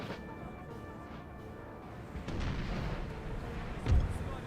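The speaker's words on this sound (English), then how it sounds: "it seems as though my cannons, rather than firing straight forward towards the Austrians, are actually firing down this way towards the Russians" Cannons firing in a Napoleon Total War battle, a low distant rumble of artillery rolling on with a heavier boom near the end, no talk over it.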